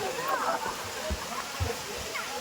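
A small waterfall near Bangalore trickles with a soft, steady rush of running water and light splashes, faint and somewhat distant, while a voice talks over it.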